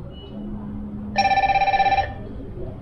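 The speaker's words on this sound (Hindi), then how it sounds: "हालांकि मेरा फोन साइलेंट है और यहाँ पे ये घड़ी बज रही है।" A Fire-Boltt Ring Bluetooth calling smartwatch with a metal body rings for an incoming call, giving a loud, rapid, pulsing electronic trill that runs for about a second close by before stopping.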